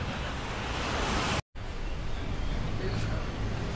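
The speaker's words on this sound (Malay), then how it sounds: "Dia air bunyi je lah." Sea waves near Krabi by the Andaman Sea, a dense steady roar of surf and wind noise that briefly cuts out, then resumes just as loud and unbroken, with no talking over it.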